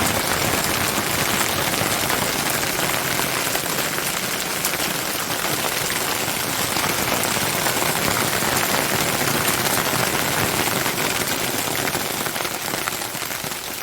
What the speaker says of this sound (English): and it's hailing now.